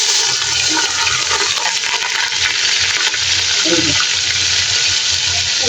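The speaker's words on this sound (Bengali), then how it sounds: "তো তেলটা গরম হয়ে গেছে, পেঁয়াজটা দিয়ে দিই।" Onions hit hot oil for chicken biryani and fry in a loud, continuous, close hiss, with a faint bubbling crackle and stirring underneath.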